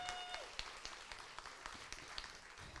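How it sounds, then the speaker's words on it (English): A small audience gives scattered applause, faint and sparse claps rising and falling over a few seconds. "Can we get a round of applause for Tiesa for doing all of our tech stuff, please?"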